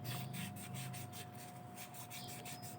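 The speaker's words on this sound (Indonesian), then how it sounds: "Oke, kita amplas pada bagian rumah tromolnya ataupun rumah remnya di sini." A motorcycle rear brake drum housing on a Honda Beat matic scooter is sanded by hand, a quick repeated scratchy rubbing in close, even strokes, fairly quiet with no talk.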